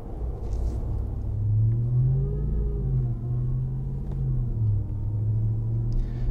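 A 2021 RAM 1500 TRX pickup truck on a backcountry road at roughly half throttle gives a steady, deep engine rumble close by, its pitch rising and easing gently as the truck pulls along.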